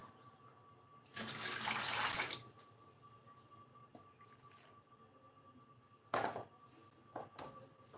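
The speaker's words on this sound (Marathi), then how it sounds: "अगदी स्वच्छ पाण्याने आपल्याला ते धुवून घ्यायचं आहे" Tap water gushes for about a second while vegetables are washed, then stops; a short second splash follows later over quiet room ambience.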